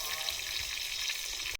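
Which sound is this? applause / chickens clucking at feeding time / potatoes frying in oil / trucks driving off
potatoes frying in oil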